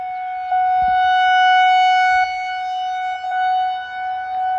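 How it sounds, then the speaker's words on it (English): A steady, wailing siren sounds from a distance, holding a sustained tone that swells slightly louder mid-clip and persists throughout. "But where is the siren though?"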